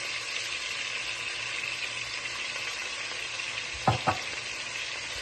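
Garlic-ginger paste fries in a hot pan with a steady, even sizzle, close and alone, broken near the end by two quick stirring scrapes.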